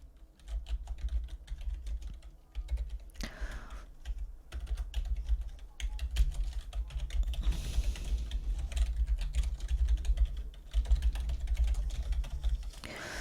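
Steady close typing on a computer keyboard, rapid irregular key clicks with brief pauses between bursts, alone without talk.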